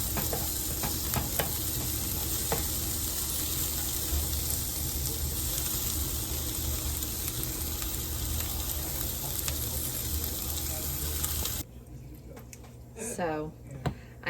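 Vegetables sauté in a pan while a budget dinner is cooked, giving a steady, close sizzle and stirring hiss that runs unbroken and then cuts off, after which a voice speaks briefly.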